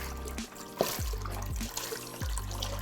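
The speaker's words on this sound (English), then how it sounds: "We've got Vietnamese pho, beef broth. And we're just gonna squeeze that on in there." Vietnamese pho beef broth squeezed from a carton into a cooking pot, heard as a close liquid pour with glugging splashes and short gurgling bursts.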